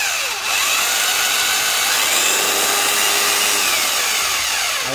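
A 220V electric drill set to wood mode whirs at a steady high pitch, loud and close, running continuously with slight speed wobble and no voices.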